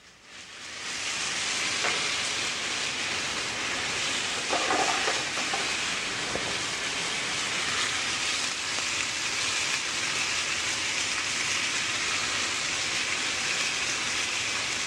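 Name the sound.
fish fillets searing in a pan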